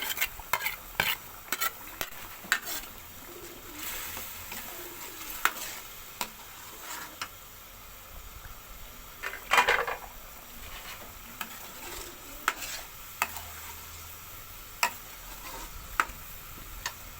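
Ginger-garlic paste with green chillies fries quietly in a pan, a faint sizzle broken by sharp scattered clicks of a spoon stirring against the metal.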